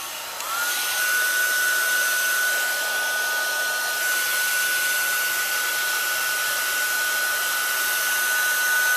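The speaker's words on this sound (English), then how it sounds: "If you don't have a heat gun, you can use a hair dryer." A heat gun or hair dryer blowing hot air to shrink plastic over a cheap homemade Halloween zombie corpse prop, a loud steady whooshing roar with a thin whine, switched on just after the start and running unbroken.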